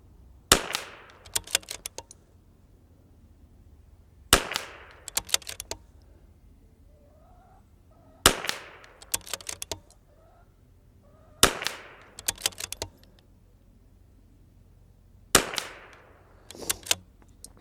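Five sharp .22LR rifle shots of ELEY match ammunition at a shooting range, spaced about four seconds apart, each followed by a few quieter clicks and clacks of the rifle's action being worked, moderately close with no talk.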